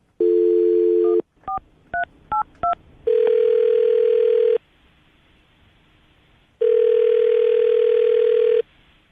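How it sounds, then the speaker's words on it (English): A steady dial tone, then a quick run of keypad beeps, followed by two long ringback tones separated by silence. "I'm going to dial the phone number right now"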